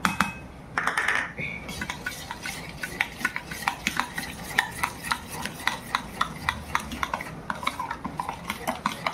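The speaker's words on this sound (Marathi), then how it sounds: "आता आपण हे दहीचं असं मिश्रण करून घेऊया" A spoon stirs a yogurt mixture with sugar and crushed peanuts in a bowl, making quiet, close, rhythmic scraping and clinking strokes that repeat steadily at a brisk even pace, with no voices.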